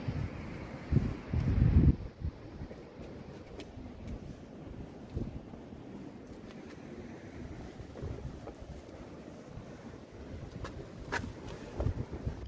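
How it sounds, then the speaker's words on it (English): Gusty wind buffets the microphone with low rumbling roars, one strong burst early on and then steady blustery noise throughout. "it's a very windy day today"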